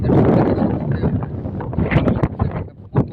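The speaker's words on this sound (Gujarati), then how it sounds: "આ પવન અહીં આવે છે પણ ઉતરાતું નથી" Loud gusty wind on Tarsingda hill buffeting the microphone close up, a heavy low rumble with a few brief clatters near the end.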